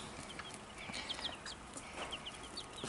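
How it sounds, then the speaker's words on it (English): About fifty baby chicks, a few days old, chirping together: faint, high, repeated peeps scattered over a steady low background hum, with no one speaking. "So here's 50 or so of these chicks."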